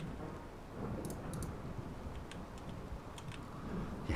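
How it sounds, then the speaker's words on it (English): Thunderstorm in the video game Rimworld: a low continuous rumble of rain and distant thunder with scattered faint ticking drops, steady and moderately quiet throughout. "Bit of a storm."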